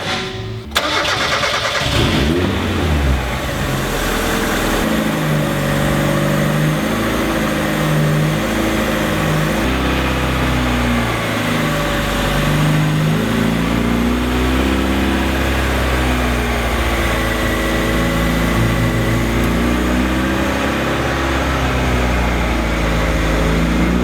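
Supercharged rally Mazda Miata engine cranks and catches at the start, then settles into a loud, rough, uneven idle with wavering throttle blips throughout, close and without talk.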